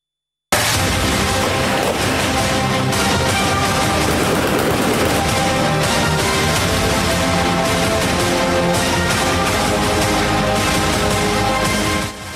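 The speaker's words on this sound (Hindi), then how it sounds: "आजाद कश्मीर के इंतखाबात में दिन भर हंगामा आराई और गोलियां चलती रहीं।" Dense gunfire during election-day unrest in Kotli, Azad Kashmir: loud, continuous bursts of rapid shots and volleys crackle without pause for about twelve seconds, with no voices.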